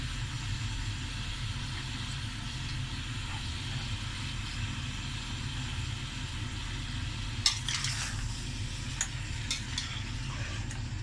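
Mutton pieces with garlic frying for korma: a constant low rumbling sizzle under a steady hum, with a few clinks and stirring scrapes in the later seconds, no one speaking.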